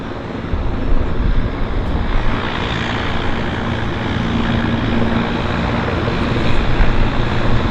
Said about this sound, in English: Look at the snout on that aircraft.